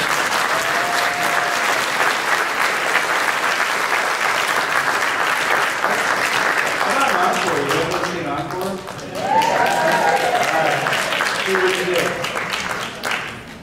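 An audience at a kids' Christmas play applauds in a long, dense burst of clapping, dipping briefly before swelling again, with voices and cheers mixed in.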